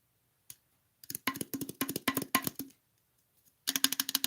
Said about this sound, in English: You can't type while I'm talking?